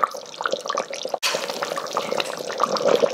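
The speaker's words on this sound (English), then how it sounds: "once you notice the liquid simmering, bubbling up or heating up" Chicken curry liquid bubbles in an Instant Pot, close-up with irregular pops and splutters throughout and a sharp click partway through, no talk.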